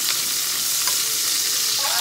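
Onions sizzle hard and close in a hot pan for a couple of seconds, a bright continuous frying hiss with light stirring and no voices.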